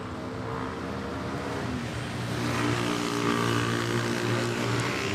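A China Airlines airliner at Manila Airport gives a steady, loud engine roar with a broad rushing hiss and low droning tones that grow slightly louder midway, without any voices.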